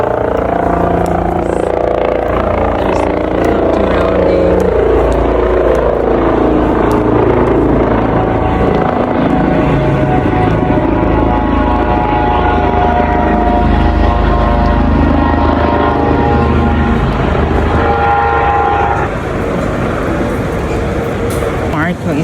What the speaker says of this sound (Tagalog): There's also the helicopter.